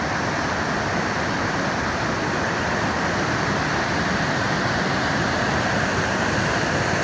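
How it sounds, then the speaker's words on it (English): Dismal Falls, a waterfall on the Appalachian Trail, roars in a steady, dense rush of falling water. It sounds close and constant, with no voices. "got a side trip, what's called Dismal Falls"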